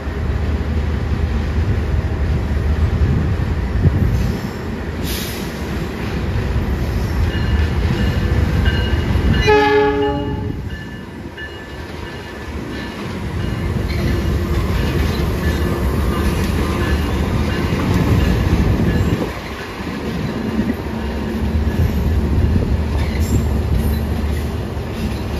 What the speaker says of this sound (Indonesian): Ini ada kereta masuk gaya baru malam selatan kayaknya teman-teman.